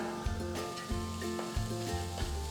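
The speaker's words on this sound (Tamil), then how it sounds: "கொத்தமல்லியும் சேர்த்து இதில் நம்ம நல்லா வதக்கிடலாம்" Onions and coriander sautéing in a pan, giving a bright, steady sizzle close by, broken by regular stirring scrapes and knocks about every half second.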